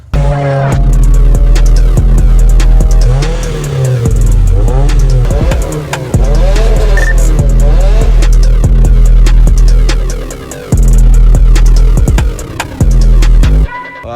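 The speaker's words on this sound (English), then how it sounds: "we're gonna be doing a POV drive just with the Mitsubishi Eclipse" Modded fourth-generation Mitsubishi Eclipse heard from inside while driving, a loud throbbing engine drone rising and falling through revs, with a brief drop in the middle before pulling again.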